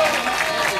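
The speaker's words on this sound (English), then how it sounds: "How about a round of applause for Avon?" A studio audience breaks into steady applause for an Avon prize package on a local Baton Rouge TV game show, a brief, dense burst of clapping.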